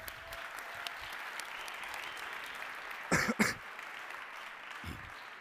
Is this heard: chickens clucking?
no